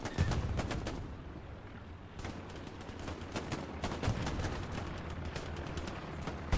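MG machine gun fire in the World War II shooter Hell Let Loose at the Remagen Ludendorff Bridge, rapid bursts of close, loud shots with a brief lull partway through, then sustained firing with distant gunfire behind.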